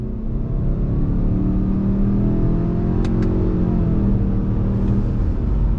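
A 2021 Subaru Ascent midsize SUV with a torque-converter automatic accelerates under throttle, its engine note rising steadily from inside the cabin, loud and continuous with a couple of faint clicks midway.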